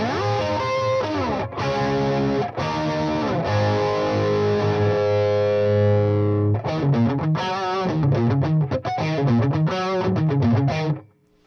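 Electric guitar through a Metropoulos Metro-Plex or Super-Plex amp turned all the way up, giving a Vox-like tone: loud, strummed distorted chords ringing out, a brief pause, then choppy rhythmic strums before a sudden stop.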